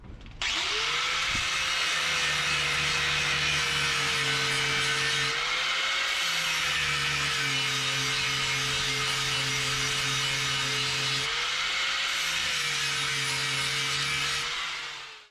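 Continuous loud mechanical whine and rasp of a power tool, likely a grinder, cutting into a part of an air conditioning radiator unit during a cooling upgrade, steady for about fifteen seconds with slight pitch dips.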